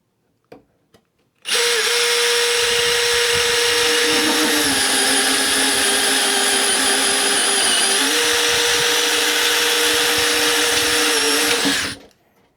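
A Milwaukee M12 compact cordless drill runs alone at constant speed for about ten seconds, a loud steady motor whine with a slight pitch dip midway, starting and stopping abruptly.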